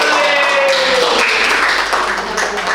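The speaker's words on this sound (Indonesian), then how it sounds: "Kita berikan aplaus dulu untuk kelompok" A classroom group applauds a presenting group, dense loud clapping from many hands sustained throughout with a faint voice beneath it.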